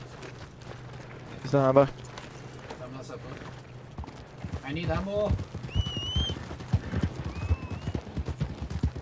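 Horse hooves clopping in Red Dead Redemption 2 Online, a rapid galloping rhythm beneath game effects and someone talking, with a brief whinny-like call and faint whistling tones.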